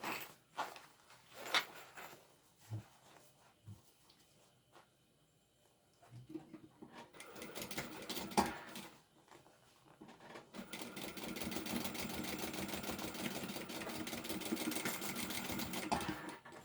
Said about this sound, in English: We're going to do that top stitching over here that we did on the other side.